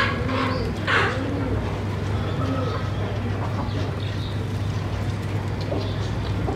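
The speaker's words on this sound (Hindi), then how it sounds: "फर्स्ट कबूतर शातिर बहुत है, बड़ा मुश्किल है पकड़ना उसको।" Pigeons near a cage coo and flutter softly under a constant background hum, with brief bird calls scattered through and a sharper chirp early on.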